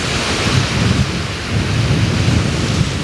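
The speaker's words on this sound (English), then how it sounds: "We just sat out quite a storm." A squally storm on a beach at Poole Harbour sends a loud, steady roar of heavy rain, gusting wind and thunderous rumble, with deep surges pulsing throughout and no voices.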